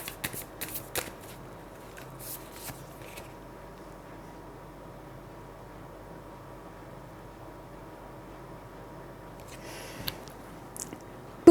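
Tarot cards shuffled close by in quick, papery riffling bursts near the start and again near the end, with quiet handling noise between and no talking.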